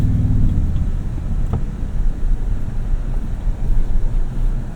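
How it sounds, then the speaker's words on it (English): Engine of a 2025 Toyota Tundra TRD Pro while driving, a low steady rumble with road and wind noise heard from inside the cab, fairly loud and unbroken, no talking. "Good sound actually coming from this engine."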